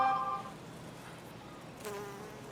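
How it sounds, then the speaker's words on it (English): Bees buzzing around a very large garden plant in a zone 9 garden in December: a close, faint insect drone with a louder pass at the start and another brief swell near the end. "the bees just love this thing."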